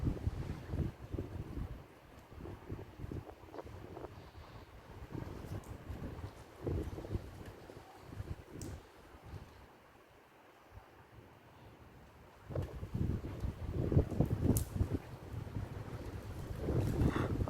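Strong typhoon wind blusters and roars with rain in steady broadband noise, dipping quieter midway before surging loud again in heavy gusts.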